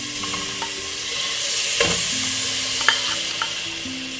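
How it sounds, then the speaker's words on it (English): Butter melts in a medium-sized pot on a stovetop, a soft continuous sizzle swelling midway, with a few clinks and scrapes of stirring and a faint tonal background, close and without talk. "is to get your butter melted"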